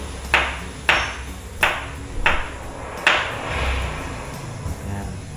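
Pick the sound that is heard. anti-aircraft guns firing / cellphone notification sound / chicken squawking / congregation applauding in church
cellphone notification sound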